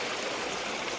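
Creek water flowing steadily nearby, a continuous bright rushing and babbling with no talking.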